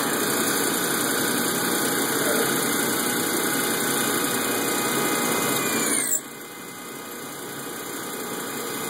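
A vehicle engine idles steadily while an alternator said to put out about 270 amps is load-tested, with a constant close hum and whine that dips briefly near the end.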